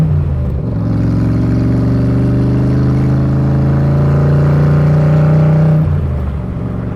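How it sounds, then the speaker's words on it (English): A 1965 Shelby Cobra Factory Five replica's engine and exhaust pipes rev up loudly and build as the car accelerates, a steady deep roar with rising harmonics that holds for several seconds before easing off near the end. "Now I'm just barely touching the accelerator, and this thing is fast as grease lightning. The pipes sound amazing."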